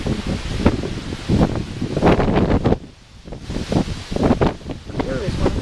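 Gusty wind blows across an outdoor microphone, rumbling and rustling in uneven surges that drop briefly before picking up again, with voices talking intermittently beneath it.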